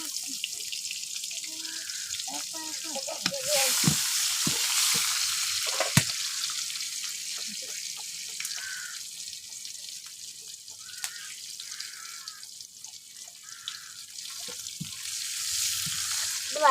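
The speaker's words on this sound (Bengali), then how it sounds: "এই দেখুন লাল লাল করে ভাজা হয়ে গেছে চিংড়ি মাছ। আমি দিয়ে দেবো পেঁয়াজ কুচি" Prawns frying with chopped onion in hot oil, a steady close sizzle throughout with occasional clinks and scraping of a stirring utensil, no talking.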